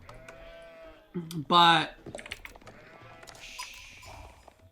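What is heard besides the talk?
sheep bleating in a video game, Age of Empires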